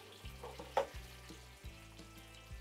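Faint sizzling of eggplant frying in oil, with a steady low hum underneath and one brief clatter partway through.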